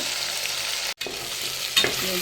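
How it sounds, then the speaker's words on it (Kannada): Garlic paste frying in a pan while making ghee rice, a continuous close sizzle with a brief drop-out and a spoon scraping as it is stirred. "ಜಾಸ್ತಿ ವಾಸನೆ ಹೋಗೋ ತನಕ ಹುರ್ಕೊಳ್ಳೋಣ"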